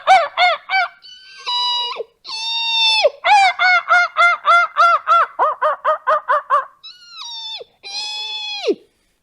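A human voice imitates crows fighting a hawk, with rapid runs of harsh caws broken by longer, higher drawn-out screeching cries, close and loud with short silences between bursts.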